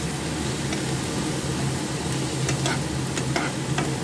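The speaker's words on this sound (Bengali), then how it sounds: "কাঁচা লঙ্কা থেতো করে, পেঁয়াজ বাটা সব দিয়ে দিলাম অয়েলের মধ্যে।" Crushed green chilli and onion paste sizzle in hot oil, the start of a dried fish (shutki) dish, a loud continuous close hiss with a few sharp spatters and stirring scrapes, no voices.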